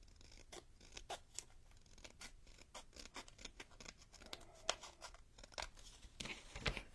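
Scissors snipping trim for a Halloween book nook vignette built from wood and brick, a steady run of crisp close cuts in quick irregular succession, with no one talking.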